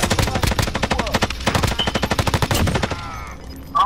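Heavy light machine gun fire in the video game Warzone: sustained rapid automatic bursts, loud and close, with a brief pause in the middle before firing resumes and then trails off.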